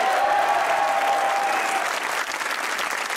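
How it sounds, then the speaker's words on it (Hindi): Studio audience at a Pakistani TV comedy talk show bursts into loud, sustained applause that fills the whole stretch, a dense steady wash of many hands that eases slightly toward the end. "तो बजाइए तालियां।"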